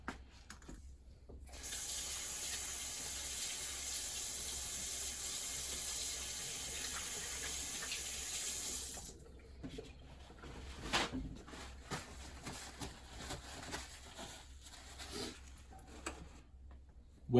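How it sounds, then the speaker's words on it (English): A kitchen tap runs while hands are washed, a steady hiss of flowing water for about seven seconds, then splashing and rubbing with small knocks as it is turned off. "I'll wash my hands quick."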